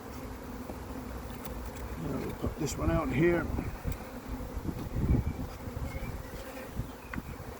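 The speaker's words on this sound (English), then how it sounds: "the bees are actually very calm" A honeybee colony hums with a steady, dense buzz throughout a hive inspection, with louder passes of bees near the microphone and some handling noise, while a person speaks briefly.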